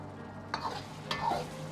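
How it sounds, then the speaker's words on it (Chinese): Fried tofu being pushed around with a spoon in simmering sauce over medium heat, giving soft scraping stirs at a few moments over a faint steady bubbling, close and quiet. "然后再倒入煎好的豆腐，用勺子推动，让豆腐都浸泡在汤汁中，保持中火烧至2分钟"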